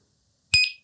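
A Begode RS HT C38 electric unicycle gives a short, bright electronic beep, then a brief trailing tone and the start of another beep, clear and close against silence.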